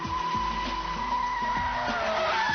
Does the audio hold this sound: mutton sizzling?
no